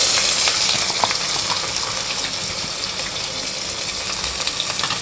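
Three large onions go into hot oil for a coconut milk vegetable biryani, setting off a continuous loud sizzling and crackling fry that stays even throughout with light stirring, and no one talking.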